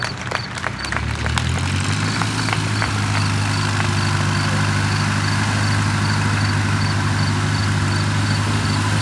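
A vintage SPAD VII biplane engine idles loudly and steadily after landing at an airshow, a deep throbbing drone that settles in after a few sharp pops and stays close, with no talk over it.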